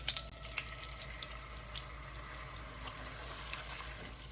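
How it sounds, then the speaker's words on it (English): Quiet, steady trickle of pasta cooking water being poured into a pan with butter and milk, with faint sizzling and small splashes over a low background hum. "I'm adding the water from the pasta"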